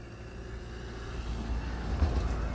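A CF Moto quad bike's engine hums in a low, steady rumble while riding, fairly faint and distant-sounding, with a slight swell near the end and no talk.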